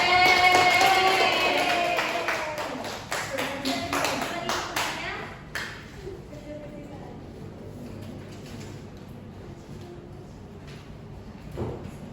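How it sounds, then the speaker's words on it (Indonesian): Clapping from a school class at the end of a group presentation, a burst of quick overlapping claps that tapers off after a few seconds, leaving a quiet room with faint sounds. "ya, tepuk tangan"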